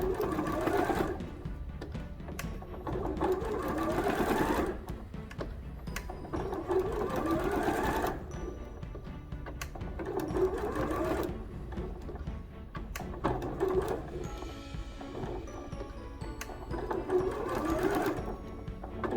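A sewing machine stitches fabric for a jewelry pouch, a steady close whirring hum in several long runs with brief pauses for pivoting and back stitching.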